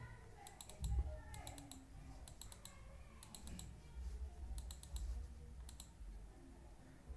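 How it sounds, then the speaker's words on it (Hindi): Computer mouse buttons clicked in quick repeated double-click bursts, crisp faint clicks coming in small clusters over a low steady background. "सबको 2 बार क्लिक कीजिए, ऑटो एडजस्ट हो जाएगा।"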